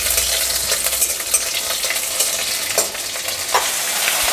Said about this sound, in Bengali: আর এর মধ্যে সাত আটটা কাঁচা লঙ্কা দিয়ে এটাকে ভালো করে হালকা করে ভেজে নেবো